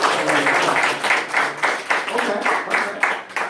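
An audience at a live poetry show in Chicago gives a round of applause, uneven clapping and scattered cheers in a small room, with some voices mixed in.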